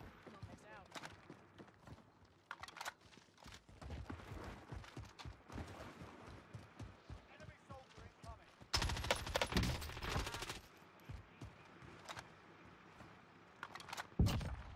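Bursts of automatic gunfire from a firefight in Warzone crackle in the background under game voice chat, with a louder dense volley midway and a sharp shot near the end.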